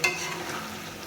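Chicken with new potatoes and green chillies sizzles in a pan as it is stirred, a brief soft frying hiss with a small clatter at the start.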